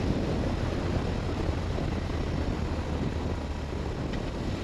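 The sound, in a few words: BMW R1200-RT motorcycle accelerating in third gear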